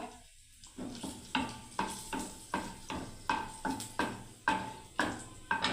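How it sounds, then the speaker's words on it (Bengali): Dried red chilies frying in a pan, a soft steady sizzle broken by a regular run of about a dozen sharp scrapes and clinks of a utensil stirring against the metal, close and with no voices. "প্রথমে লঙ্কা দিয়ে দিলাম, শুকনো লঙ্কা"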